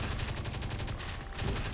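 Automatic turret in the survival video game Last Day on Earth firing a rapid burst of evenly spaced shots, a fast mechanical rattle that briefly pauses then resumes, at moderate level with no talking.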